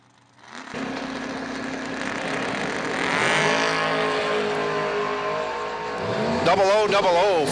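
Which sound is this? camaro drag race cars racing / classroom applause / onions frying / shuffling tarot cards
camaro drag race cars racing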